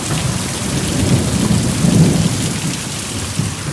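Torrential rain roars steadily during a thunderstorm, while a deep rolling rumble of thunder builds and fades in the middle. Nobody speaks.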